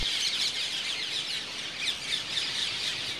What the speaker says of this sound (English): That's the sound of parakeets, hundreds, perhaps thousands of parakeets.